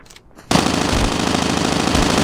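RazorBack SMG fire in the mobile shooter game Call of Duty Mobile: a loud, continuous automatic burst that erupts abruptly after a brief quiet moment and rattles on to the end.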